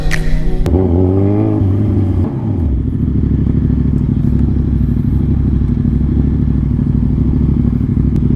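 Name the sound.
big bike motorcycle engine while riding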